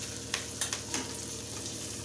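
Turmeric spooned into hot oil while making Nagpur-style thin poha chivda gives a steady, quiet sizzle with a few soft scrapes and clicks of stirring, and no one speaks.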